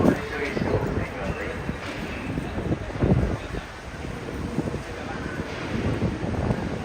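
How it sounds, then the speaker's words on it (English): Strong wind blows along a street in Ginza, Tokyo, buffeting the microphone with a loud, gusty roar mixed with faint city noise throughout. "It's really windy here."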